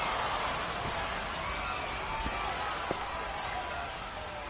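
Steady rain hisses across a ballpark in the MLB 26 baseball video game. The dense, even wash continues throughout, with faint crowd murmur beneath it and a few soft ticks.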